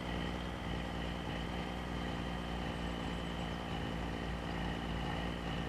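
A 1,000 horsepower tractor engine in a farming video game runs at a steady, loud drone with a constant low rumble and idling texture, unbroken and with no talk over it.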